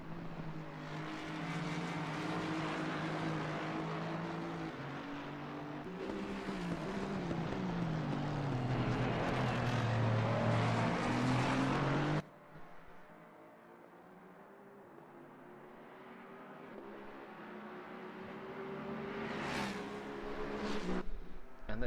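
Ford, Ferrari and Aston race cars in a sim racing game roar past with sustained engine drones, pitch climbing and falling through gear changes, one car dominating before a sudden cut to a quieter, rising engine note.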